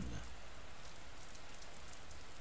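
Steady rain patters densely and evenly on a surface, a continuous soft hiss with no voices.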